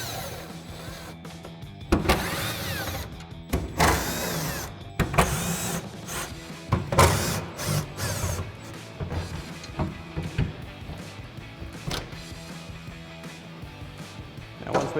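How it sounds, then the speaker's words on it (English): Impact driver with a T30 Torx bit backing screws out of Toyota Tundra truck bed rails, giving several short whirring, buzzing bursts with pauses and handling clatter between them, nearby. "we'll go ahead and grab our impact and our T30 Torx bit and run these out"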